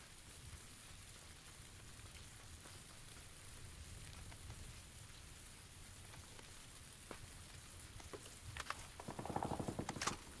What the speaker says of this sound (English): Did it really have to fucking rain so I can't hear anything?